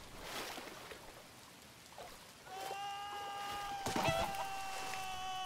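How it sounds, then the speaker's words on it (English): Chicken clucking in the video game Minecraft: Story Mode, a few short clucks and squawks over quiet game ambience, with a bright tonal music sting partway through. "Na, Hühnchen."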